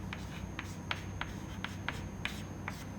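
Pen or chalk strokes as an equation is written during a fluid mechanics lecture on potential flows, a quiet series of short regular scratches over a low steady hum, with no talk.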